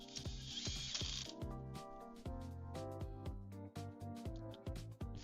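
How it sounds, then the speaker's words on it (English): Screws are driven into a PS5 SCUF controller during a TMR upgrade, giving a quiet run of rapid mechanical ratcheting clicks with short bursts of whirring, close up and alone. "let's go ahead and get these screws in"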